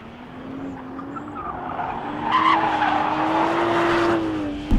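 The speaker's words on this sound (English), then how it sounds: "You can just balance these skids so wonderfully." Toyota Supra sliding on a race track, tires squealing in a sustained drifting skid over a steady engine note, close and loud, growing more intense midway with a brief burst at the end.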